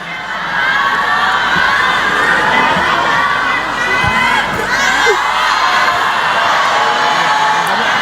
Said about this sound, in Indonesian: Kalau semua teriak kayak gini saya enggak dengar.